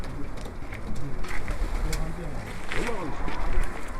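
Soft pigeon coos rise and fall close by, with people talking and background noise around them.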